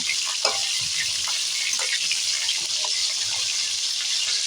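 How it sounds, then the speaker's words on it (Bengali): Fish frying in a pan, a dense, steady hiss and crackle of hot oil that stays loud and close throughout, with small pops and spatters scattered over it. "এখন মাছটা ভাজা হচ্ছে"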